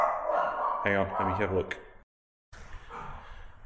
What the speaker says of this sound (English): You can hear the dogs going off.